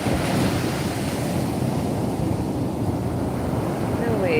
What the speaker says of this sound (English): The waves are even beautiful too.